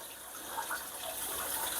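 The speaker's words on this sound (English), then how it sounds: "Just allow the water to come up a bit." Water pouring into a six-foot cichlid aquarium during scaping, a steady soft hiss and gush of filling water, close and continuous with no talk.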